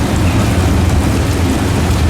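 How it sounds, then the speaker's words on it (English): Sprinklers high in the treetops pour artificial rain as a Universal Studios special effect, a loud, dense, continuous hiss of falling water with no pauses. "Rain from sprinklers near the tops of the trees."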